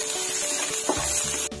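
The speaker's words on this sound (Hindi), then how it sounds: "और अब इसमें डालेंगे हम प्याज जिसे हमने बारीक काट लिया था, इसे भी हल्का सा फ्राई करेंगे" Finely chopped onions hit a hot pan for momo filling, giving a steady close sizzle with a brief scrape of stirring near the end.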